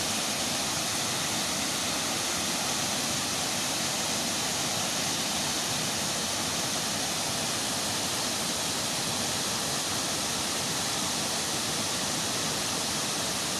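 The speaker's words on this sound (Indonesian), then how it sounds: "teman-teman bisa menikmati air terjun ini." Steady, roaring rush of the Curug Kembar waterfall in Bogor, Indonesia, broadband and unbroken for the whole stretch, with no voices over it.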